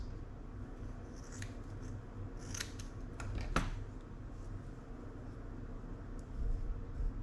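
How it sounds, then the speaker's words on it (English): Scissors snipping through clumps of dubbing body material for a fly-tying dubbing brush, a series of quick close crisp cuts clustered in the middle over a low steady room hum, with no talking. "So I'll just sit here and cut up a few clumps."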